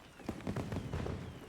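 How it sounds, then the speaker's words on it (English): Fireworks in the video game Monster Hunter Wilds crackle and pop in a rapid cluster of soft bursts, fairly faint and distant-sounding over a short stretch. "We're staring at fireworks, chat."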